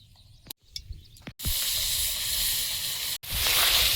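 Oil heating in a wok over a wood-fired clay stove, a steady close hiss with sizzle that swells after a couple of soft knocks and runs on with a short break.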